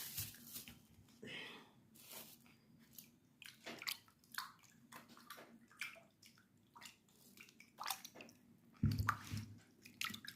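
Fufu is eaten with egusi soup in soft, wet, squishing bites and chewing sounds, quiet and irregular, with a few louder smacks near the end.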